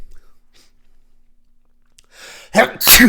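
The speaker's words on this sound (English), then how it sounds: "Sneezes. Still the worst." After near silence and a faint breathy intake, a person lets out a sharp, loud sneeze close by.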